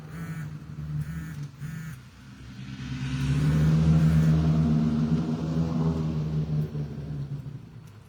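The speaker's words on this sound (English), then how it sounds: "That's their vehicle off in the distance. Sounds like they're racing off to somewhere." A vehicle engine rumbles in the distance on a stormy February night, swelling louder midway as it races off, then slowly fading against windy background noise.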